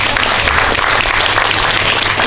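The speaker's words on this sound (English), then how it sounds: "Give her a big round of applause." Loud, continuous audience applause greeting a speaker at a positive parenting forum, with many hands clapping together in a thick, unbroken wash throughout.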